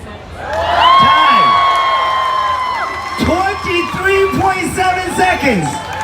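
Onlookers at the 2018 Minnesota State Fair cheer on a Rubik's Cube solver, with rising whoops and shouts swelling early, then repeated bursts of hollering and some clapping, fairly loud and close.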